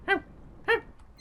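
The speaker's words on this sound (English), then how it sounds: "happy bark noise." A small dog in the Indiana Jones and the Infernal Machine video game gives two short, happy barks about half a second apart, fairly quiet and close, with no talking.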